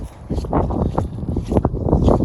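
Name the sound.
wind blowing while winter camping in Montana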